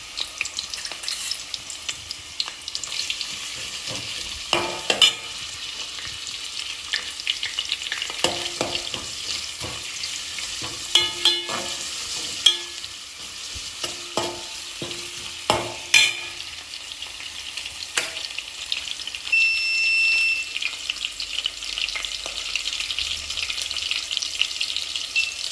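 Onions frying in a pan with whole spices for a chicken dinner, a steady sizzle throughout with scattered clicks and scrapes of stirring, close and moderately loud, no voices.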